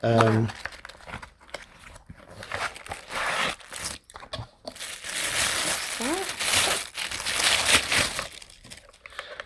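Parts of a Voilamart 1000W 48V electric bike rear wheel conversion kit being unpacked from a box, with loud close crinkling of plastic wrap and rustling packaging, while people talk throughout.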